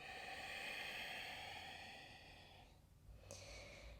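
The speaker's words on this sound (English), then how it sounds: "Breathing your Ujjayi breath. Soft sound in the back of the throat." Soft Ujjayi breath during a yoga flow, a long hushed airy exhale with a throaty rasp, followed by a fainter inhale, close and quiet.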